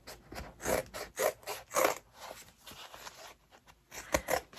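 Scissors cutting fabric around an in-the-hoop zipper bag, heard as close, quiet, rhythmic snips and rasping cuts in short bursts, one after another.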